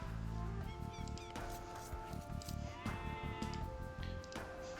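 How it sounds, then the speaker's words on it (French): Sheep bleat in the Age of Empires II video game, several short nasal cries repeating over a busy layer of game sounds. "Attention aux moutons."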